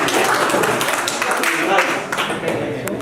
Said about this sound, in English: Clap for the lunch.